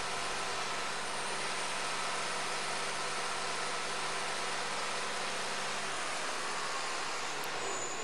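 A Triton 1500 air-start diesel vacuum system engine idles with a steady, unbroken broadband rumble and hiss, holding constant for several seconds with only a slight shift near the end and no talk.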